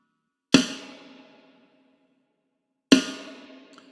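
Two sharp layered snare drum sample hits, spaced a couple of seconds apart, each with a crisp attack and a ringing decay, alone with no talking.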